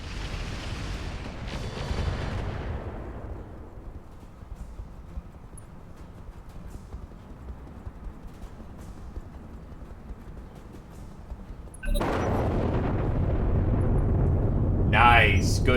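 Missile barrage explosions in the BattleTech Roguetech mech video game: an early rumbling blast fades into a low sustained roar, then a loud, dense burst of explosive impacts erupts near the end. Voices talk throughout.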